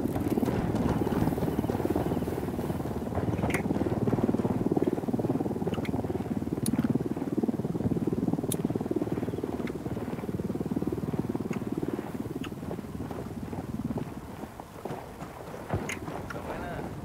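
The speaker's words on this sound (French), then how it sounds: "Je déploie le drone." A drone deployed in Ghost Recon Wildlands hums with a continuous rotor whir throughout, close and steady, with occasional sharp clicks and ticks layered over it.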